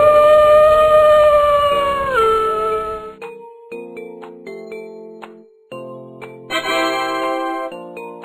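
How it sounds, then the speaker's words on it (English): A wolf howls in a children's safari animal guessing game, one long rising-then-falling howl up front, followed by light chiming musical tones and effects. "Wolf."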